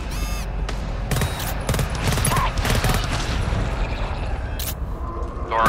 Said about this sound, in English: I'm just gonna let the other turrets do the shooting, otherwise waste my ammo